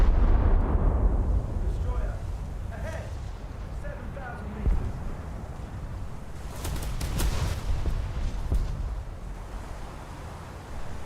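A warship's gun salvo in a naval video game, booming reports rolling out over a continuous low engine rumble while someone talks over it.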